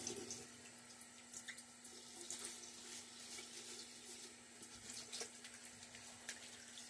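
Water runs from a tap into a sink during a wet shave, a steady close splashing and trickling with a low hum underneath, moderately quiet and continuous.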